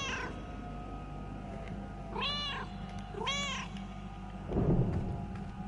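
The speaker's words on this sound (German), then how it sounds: "was wir hier spielen, ist ein Katzenmiau-Simulator" A cat meows twice in the video game Another Sight, two clear, drawn-out meows about a second apart over a quiet ambient hum, followed by a dull low rumble.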